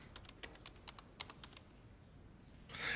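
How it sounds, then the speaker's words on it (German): A game character types a password on a computer keyboard: a quick, irregular run of crisp clicking keystrokes, close and clear, then a pause and a louder burst of rustling hiss at the end. "Sie tippt nämlich ein Passwort ein."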